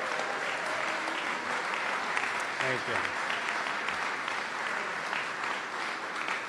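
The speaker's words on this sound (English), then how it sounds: "give them a great round of applause" Audience applause at a building dedication ceremony in Richmond, Virginia, honoring the daughters: sustained, moderately distant clapping throughout, with a brief spoken thanks partway through.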